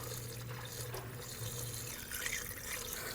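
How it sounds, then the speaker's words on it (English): Coolant pours and gurgles steadily through a funnel into a car radiator, a continuous close trickling flow with no voices. "Just going to use a funnel and pour in the appropriate coolant."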